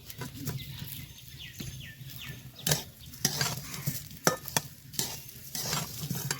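Rice being stir-fried in a pan for a thankuni-leaf biryani: close, repeated scraping strokes of a spoon against the pan over a steady sizzle, in an irregular rhythm, with no talking.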